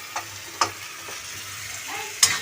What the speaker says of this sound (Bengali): লঙ্কার গুঁড়ো দিয়ে ভালো করে কষিয়ে নিচ্ছি মশলাটা